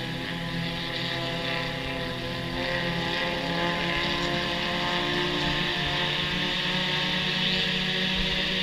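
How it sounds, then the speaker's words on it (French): Large jet skis race across open water, their engines blending into a continuous loud droning hum that holds steady and swells slightly over several seconds. "Il y a des jet skis énormes."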